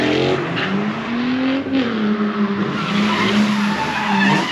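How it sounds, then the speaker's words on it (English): Car tires squeal continuously on a race track, loud and sustained over a revving engine, heard from about ten meters away beside shipping containers with no talking. "So you can hear how loud that tire squeal is."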